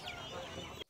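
A Sonali chicken clucks nearby at the Vadalur market in Tamil Nadu, a short run of throaty clucks that cuts off abruptly.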